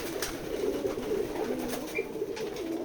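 Pigeons coo steadily at a pigeon farm in Keshabpur, Jessore, their low rolling calls layered together nearby with a few faint higher chirps, and no voices.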